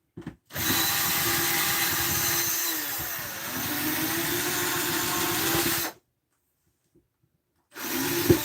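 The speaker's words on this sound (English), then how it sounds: "we could look and see if we have a sharper drill bit" An old, dull bit in a power drill grinds steadily into wood for about five seconds, stops, then starts again briefly, loud and close with no talking.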